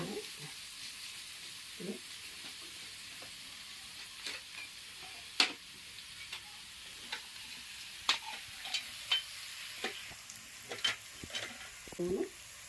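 Green chillies frying in a pan for aloo paratha filling, a soft steady sizzle with faint scattered stirring clicks and taps throughout, no talk.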